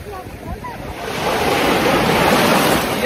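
Sea surf washing onto a warm beach, a steady broad wash that swells louder midway, with wind buffeting the microphone and no talk.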